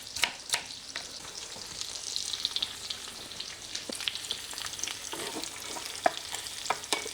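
Mushrooms fry in a pan, giving a steady crackling sizzle with occasional stirring clatters, close and fairly loud throughout.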